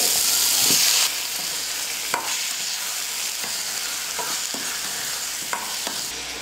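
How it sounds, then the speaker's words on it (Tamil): Green chillies, tomato and grated coconut sautéed in hot oil for a fish curry, a loud continuous sizzle with a spoon clacking against the pan several times, close and alone with no talking. "இப்போ எல்லாம் சேர்த்து நல்லா வதக்கிக்கலாம்."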